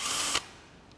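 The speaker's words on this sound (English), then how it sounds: "Place the bit into the chuck, the keyless chuck, and then just crank down on it" A keyless drill chuck is cranked tight by hand onto a bit, giving a short, close burst of dry ratcheting clicks that stops abruptly and leaves near silence.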